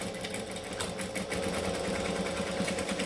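A sewing machine runs continuously while stitching a seam on a Trailblazer bag, a steady, close mechanical whir with a fine rapid needle rhythm and no pauses.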